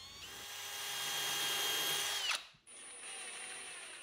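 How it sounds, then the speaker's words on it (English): Power drill fitted with a 1/16 inch bit boring a pilot hole into the side of a wooden drawer front, a steady rising whine for about two seconds that cuts off, followed by a quieter high tone. "use a 1/16 inch drill bit to drill a pilot hole into the side of the drawer fronts"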